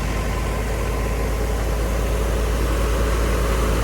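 A 2011-12 Mahindra 275 tractor engine idles with a steady, loud, low rumble and constant vibration, unchanging throughout with no talk.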